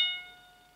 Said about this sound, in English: The part from your finger to the saddle swings too, and that creates unwanted overtones, which sounds like this.